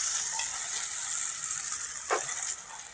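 Ground lentil paste added to a pan and stirred over low flame, giving a continuous soft sizzle and hiss with a brief scraping stir, with no talking.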